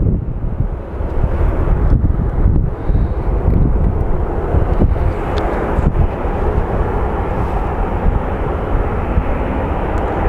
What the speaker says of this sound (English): That plane came from Las Cruces